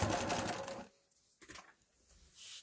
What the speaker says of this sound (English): I just do it right on the edge and do a little back stitch.